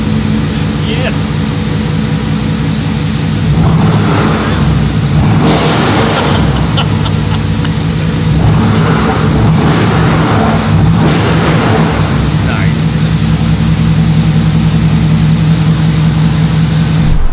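The engine of a Mercedes-AMG GT4 race car drones loudly on a track, surging repeatedly as it accelerates, with a voice coming and going over it.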